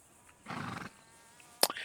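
A short breathy snort, then after a pause a brief sharp whinny from a horse nearby, otherwise quiet.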